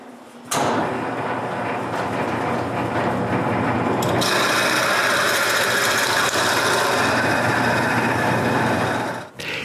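A lathe drills a hole into the center of wooden parts held in the chuck, a steady loud grinding rasp of bit against wood that runs continuously for several seconds and shifts brighter midway before stopping abruptly.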